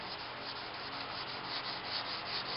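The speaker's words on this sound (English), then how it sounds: "what I'm doing now is I'm block sanding this bumper" Steady, continuous abrasive rubbing of a sanding block on a Knight Rider car bumper, close and fairly quiet, with no pauses or voices.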